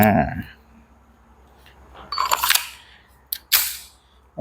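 Sharp mechanical clacks of an Umarex/KSC HK USP.45 Match airsoft pistol slide being racked, a few short bursts close by, after a brief voice at the start.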